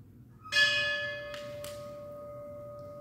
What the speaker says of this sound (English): will be tolling the bell